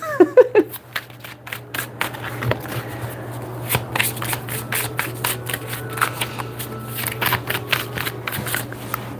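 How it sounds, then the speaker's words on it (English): Tarot cards shuffled by hand in quick repeated riffles and slaps, close and crisp, a rapid irregular patter continuing throughout with a brief voice at the very start. "Then I'm gonna shuffle."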